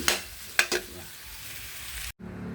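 Sisig sizzling in a hot pan as two eggs are stirred in, a steady frying hiss broken by a few sharp clinks of the utensil against the pan, ending with a brief cut to quieter cooking.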